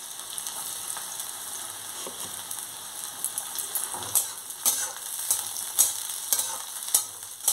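Chopped garlic frying with onions in oil, giving a soft steady sizzle punctuated by a series of sharp spatula taps and scrapes against the pan, close and fairly quiet.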